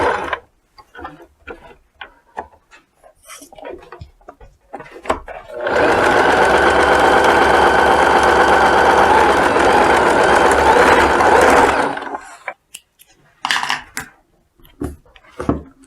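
A sewing machine backstitches the collar of a short-sleeved cotton shirt in a loud, steady run of about six seconds, with scattered light clicks of handling before and after.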